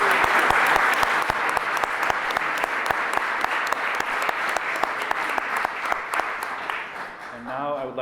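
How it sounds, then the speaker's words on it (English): A sustained round of applause from a seated audience at a faculty awards ceremony, dense even clapping holding steady for several seconds before tapering off as a voice begins. "So let's give one large round of applause."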